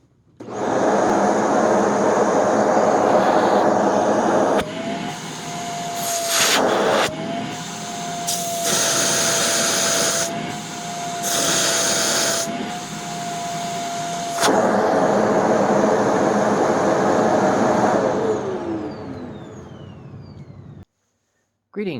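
A Shark Rotator XL NV90 vacuum runs on an airflow and suction test box, a loud steady whooshing roar with a tonal whine that shifts pitch as airflow is altered, then winds down and cuts off near the end.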